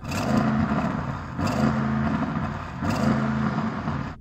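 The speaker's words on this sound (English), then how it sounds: "So let's have a listen to the RS6. Go rev it up." An Audi RS6 engine revs up hard three times in a row inside a snow dome, each burst rising and holding briefly before dropping back, loud and close.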